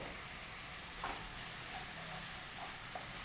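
Capsicum and finely chopped cabbage sauté in a pan with a dense, steady sizzling hiss and faint stirring scrapes, close and continuous.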